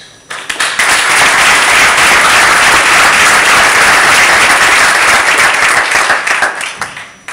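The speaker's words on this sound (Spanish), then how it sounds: "un aplauso para todos ustedes" Loud, dense applause from an awards-ceremony audience at the Premios Tecnoenergía, swelling in quickly, holding steady and full, then fading toward the end.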